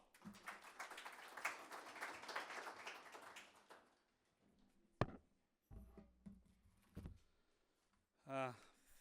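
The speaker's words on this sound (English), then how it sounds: "Round of applause, ladies and gentlemen." Audience applause at the NBC Marathon Launch in Namibia, a dense burst of many hands clapping for several seconds in a hall, then fading into scattered knocks and shuffling noises.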